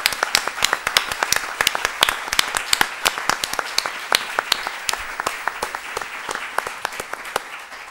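An audience claps for youth presenters at an evening event, a dense run of sharp individual hand claps close by with no voices over it, steady for the whole stretch.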